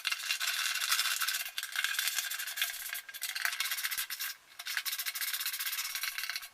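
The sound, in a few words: tightening nuts on go kart shifter cable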